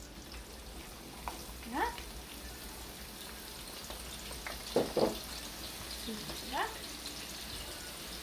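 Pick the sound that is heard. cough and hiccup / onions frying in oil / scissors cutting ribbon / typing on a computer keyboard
onions frying in oil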